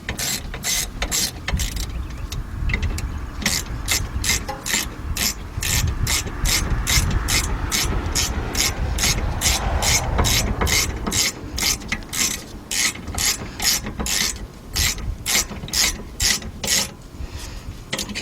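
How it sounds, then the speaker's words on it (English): A 3/8-inch drive ratchet with a shallow 12mm socket clicks in rapid, steady bursts while tightening bolts on the rear rotor of a 2007 Honda Accord, the pawl clatter loud and close over a low mechanical rumble. "get our regular ratchet, regular 3/8 drive ratchet, 12mm socket, shallow. Tighten them up."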